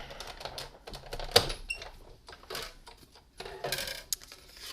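Cardstock in an embossing folder is cranked through a Big Shot die-cutting machine, giving a run of clicks, clacks and ratcheting knocks with short pauses, close and fairly loud, no talk.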